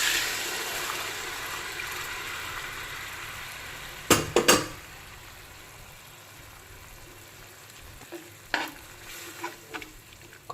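Boiled keema tipped with its cooking water into a hot pot for gongura biriyani, giving a steady sizzle and bubbling hiss, with a few clanks of a spoon against the pot partway through.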